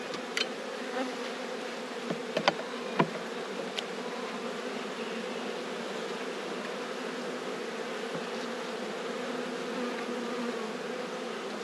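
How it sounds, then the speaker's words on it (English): Honey bees fill the air around a hive, a steady dense buzzing swarm that drones on throughout, with a few brief knocks and clicks near the start. "see the amount of bees in the air at the moment"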